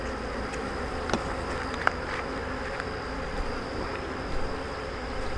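A continuous hum of many honey bees buzzing close by, steady and busy, with a few faint clicks and taps mixed in, during a honey harvest at the hive.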